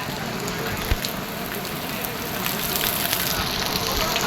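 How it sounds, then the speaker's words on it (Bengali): Heavy, sudden rain pours down in Rangpur, a constant loud hiss of water on surfaces with scattered nearer drips and splashes standing out. "ও কি জোরে বৃষ্টি!"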